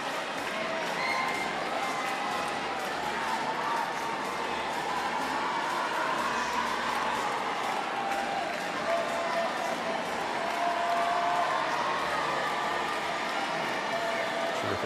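A large crowd at Suzanne Lenglen cheers and murmurs steadily through a Spain versus France men's doubles wheelchair tennis bronze medal match in Paris, a continuous wash of noise with commentators talking over it.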